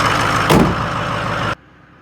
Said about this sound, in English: the truck's sitting out here high idling, and notably, more turbo noise